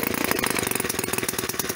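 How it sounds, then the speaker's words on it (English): A Black Max 4-cycle string trimmer engine running just after starting, a fast, steady, buzzy putter close to the microphone with no talk. "until the engine starts"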